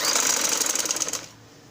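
A sewing machine runs a rapid, even burst of stitches down the centre of the gathers on a one-year-old baby's summer frock, then stops abruptly after about a second.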